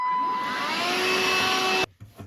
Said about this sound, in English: I just quickly vacuum out the spiders, alright?